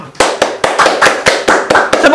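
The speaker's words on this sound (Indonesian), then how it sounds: "Tepuk tangan." An audience at a live Indonesian stage show bursts into quick, dense clapping as a performer is introduced, with sharp sustained hand claps ringing out close and loud throughout.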